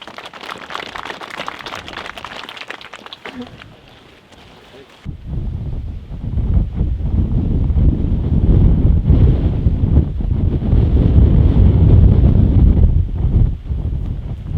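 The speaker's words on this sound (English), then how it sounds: "And the stiff wind will pick up." Strong, stiff wind buffets the microphone on an outdoor disc golf course at a European championship final round, a loud, steady roar that drops briefly and then surges back, heavier and continuous.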